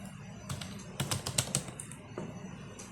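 Typing a web address on a computer keyboard: a short burst of close, light key clicks in an uneven rhythm, with a faint room hum underneath.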